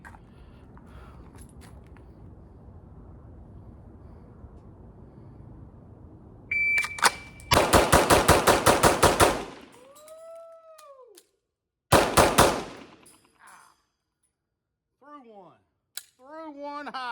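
Two quick strings of pistol shots fired after a timed draw from a Springfield Echelon or Glock 17, each burst loud and sharp with a beep before, followed by a quieter stretch.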